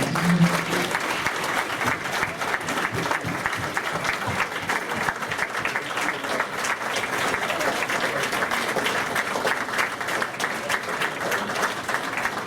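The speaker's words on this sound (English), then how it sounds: "I will ask all veterans to please stand up so that we can honor you with a round of applause." Audience at a Veteran of the Year Award ceremony applauding the veterans, dense sustained clapping from a sizeable crowd, continuous and even for the whole stretch.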